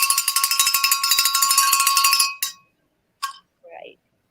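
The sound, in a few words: hand bell being rung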